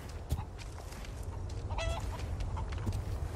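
Chickens in Resident Evil 4 cluck in short, scattered bursts over a dense, noisy game background, fairly close and moderately loud, with no talk.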